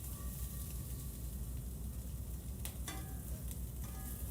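Wagyu steak bites sizzle steadily in a hot pan, a close, dense frying hiss with a few faint scrapes and clinks of tongs.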